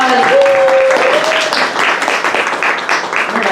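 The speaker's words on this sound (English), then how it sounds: "Everyone give a round of applause" Audience applause at a student awards ceremony, a steady wash of many hands clapping throughout, with a brief tonal squeal near the start and faint voices mixed in.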